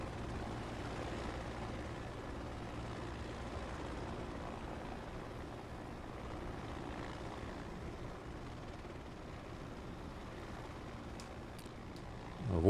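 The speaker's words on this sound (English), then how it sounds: "getting away from that helicopter that some idiot parked there" Parked helicopter idling in Microsoft Flight Simulator 2024 at Yosemite, a steady, even rotor and engine drone that holds constant and fairly faint throughout, with a brief bump at the very end.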